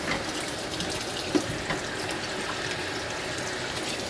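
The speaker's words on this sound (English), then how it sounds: "wash my hands real quick." Tap water runs steadily into a kitchen sink during hand washing while apple cider jelly is being made, a constant wash of sound with a couple of small clunks and no talking.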